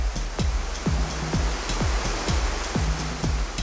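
A waterfall beside a cliff in a national park makes a steady broadband roar, overlaid with a regular series of low thuds repeating about every half second.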